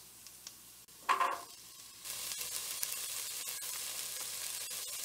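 Chopped carrots drop into a hot soup pot for albondigas meatball soup, giving a short splash followed by a steady close sizzle and bubbling that continues to the end.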